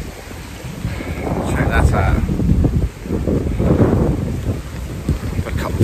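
Gusty wind on a wet, wild morning while carp fishing buffets the microphone in loud, rough bursts, with a voice speaking briefly beneath the roar.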